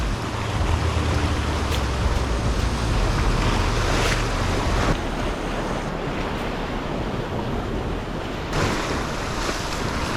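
Strong Atlantic sea breeze buffets the microphone while surf breaks steadily below massive cliffs on the Maine coast in Acadia National Park, a loud continuous roar of wind and waves with no voices.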